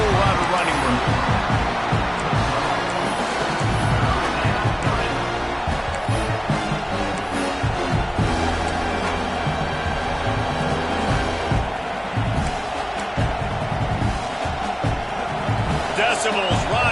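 Stadium crowd at a college football game roars in a steady, dense wash throughout, with scattered shouts and whoops rising above it while a commentator talks over the noise.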